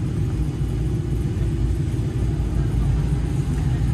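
A 1971 Camaro in the pro car class at an autocross shootout at Del Mar, its engine giving a steady, loud low rumble with continuous throttle throughout, and no clear separate revs.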